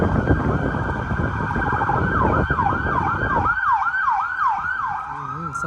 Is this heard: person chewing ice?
no